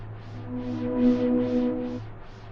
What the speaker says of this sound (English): a whole channel strip of distortion and amp simulation